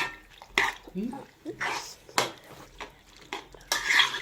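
Vegetable pasta is stirred in a cooking pot, with a utensil scraping and knocking against the metal in irregular bursts at close range, a voice speaking between the strokes.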